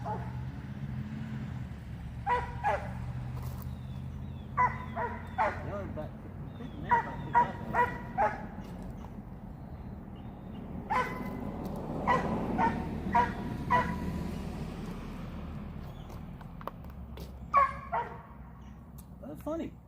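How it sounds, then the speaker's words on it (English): A dog barks again and again, fairly close, in short irregular bursts and yips across the whole stretch, over a low background hum while someone works on a motorcycle. "Dog's not being quiet."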